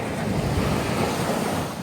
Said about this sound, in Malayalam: ഇവിടെ നിന്ന് കടലിങ്ങനെ അലയടിക്കുന്നുണ്ട്